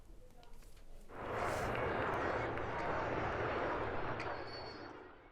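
Blue Angels jet aircraft roaring overhead during a Fleet Week flyover, a broad loud rumble swelling in after a quieter start, holding steady and then slowly fading as the jets pass.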